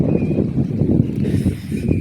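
Wind blows across an open cotton field on a hot day, a low, gusty rumble buffeting the microphone close up and rising and falling over a couple of seconds.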